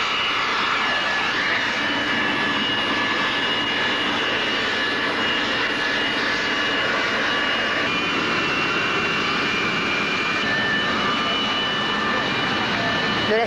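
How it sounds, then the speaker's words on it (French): A Boeing 737 jet airliner of Mali's national airline, its jet engines whining and roaring steadily at close range throughout, with a voice talking faintly underneath. "un 737 de la compagnie nationale aérienne"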